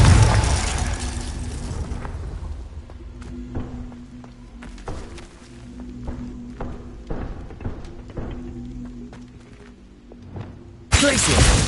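Confringo blasting spell in Hogwarts Legacy, a loud burst at the start and another at the end, with clattering impacts and footsteps in between.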